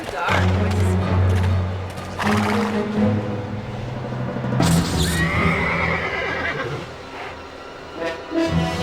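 Horse in the Gabriel Knight 3 video game giving a loud whinny, then a rising, wavering neigh partway through, heard alongside a person talking and low musical tones.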